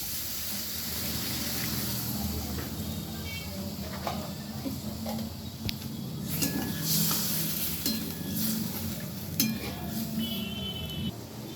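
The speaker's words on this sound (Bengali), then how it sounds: "মশলাটা আমার ভাজা হয়ে গেছে। আমি এবারে জল দিয়ে দিচ্ছি।" Spices fried in a pan for a pumpkin bori dish sizzle and hiss steadily as water is poured in, with stirring and the clink of a utensil against the pan throughout.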